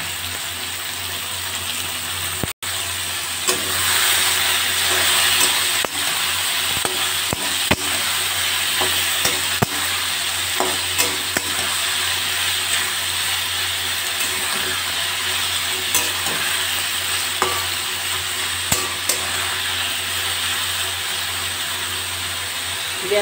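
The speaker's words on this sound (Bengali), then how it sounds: "এবার ঝিঙেগুলো দিয়ে দিলাম।" Ridge gourd pieces frying in a pan with oil and spices, a steady close sizzle broken by repeated scraping and stirring clatters, no voices.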